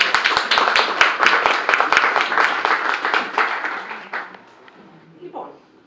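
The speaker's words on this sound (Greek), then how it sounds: "ένα χειροκρότημα αξίζει σε αυτές τις δύο κυρίες." An indoor audience claps through a talk on childhood obesity and healthy eating, a dense burst of applause with a few sharp individual claps that thins out and fades over about four seconds, followed by a faint murmur.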